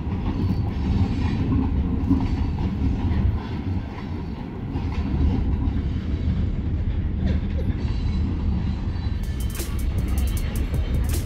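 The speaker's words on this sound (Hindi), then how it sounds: "और वहाँ से ट्रेन गुजर रही है, तो मैंने सोचा मैं वो भी कैप्चर करती हूँ।" A train rolls past near an outdoor restaurant patio in Peterborough, Ontario, giving a loud, steady rumble with rhythmic clacking of wheels and a brief metallic squeal near the end.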